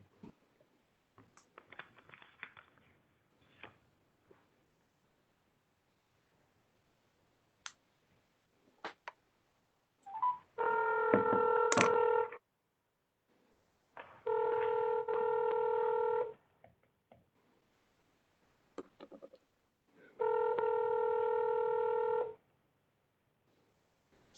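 A cell phone on speaker being dialed, a sharp keypad tap or two followed by three long, loud bursts of dual-tone dialing, each lasting about two seconds and separated by short pauses, with faint clicks and handling noise before.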